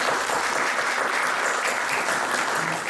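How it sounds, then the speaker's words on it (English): Loud, dense applause from a seminar audience on workers and revolutions in the Middle East, a continuous wash of clapping filling the whole few seconds without speech. "If you agree, just give me an applaud"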